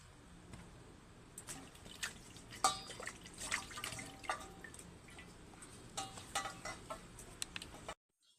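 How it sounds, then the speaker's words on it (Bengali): Hilsa fish being rinsed with water, a steady wet trickle and splashing with scattered drips and small knocks, fairly quiet and continuous until it stops abruptly near the end. "ভালোভাবে জল দিয়ে খুব সুন্দরভাবে ধুয়ে নিচ্ছি"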